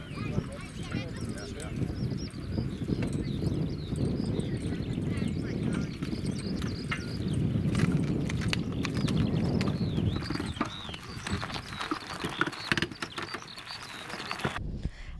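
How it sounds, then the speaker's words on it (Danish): Horses pulling carriages on the Danish island of Samsø clip-clop steadily outdoors, a faint, continuous patter of hooves mixed with background noise while people talk over it. "Nu står jeg her ved hestevognene på Samsø"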